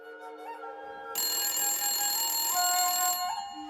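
A telephone rings as an effect, a bright electronic tone that swells up and holds for about two seconds over a quieter musical background before cutting off.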